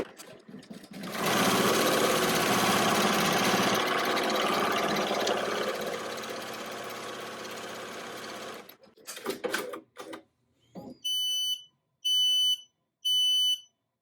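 An embroidery machine stitching a card wallet runs in a long steady whir that slows and stops with a few clunks, then three loud electronic beeps sound to signal the end.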